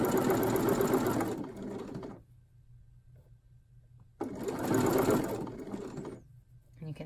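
A sewing machine stitches binding around the neckline of a woven strappy tank top, running in two close, steady bursts of about two seconds each with a quiet pause between them.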